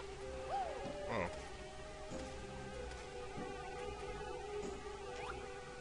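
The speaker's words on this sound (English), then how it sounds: "I can either A, kill the bees, B, kill the bees, C, kill the bees, or maybe D, kill the bees." Bees buzz in the Banjo-Kazooie level Flower Power, a steady insect-like drone with a few chirpy game tones, quiet and continuous for several seconds without speech.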